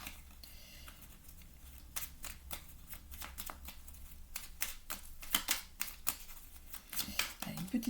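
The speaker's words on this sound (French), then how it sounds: "je vais mélanger les cartes, en faire tomber une" Tarot cards are shuffled by hand in a series of quick, crisp riffles and flicks, close and fairly quiet, with a few soft handling sounds between bursts.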